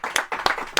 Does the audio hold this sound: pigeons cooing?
no